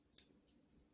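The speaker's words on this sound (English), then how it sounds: "just trim the seam allowance a little bit on the corners" Scissors snip once through fabric, trimming the seam allowance at the corners of a long skirt before hemming; a single crisp, close cut with a faint second click just after.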